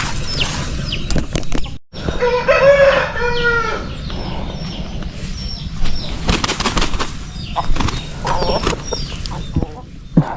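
Chickens at feeding time on a farm, with roosters crowing, hens clucking and wings flapping close by, a steady busy flock din with sharp flutters throughout.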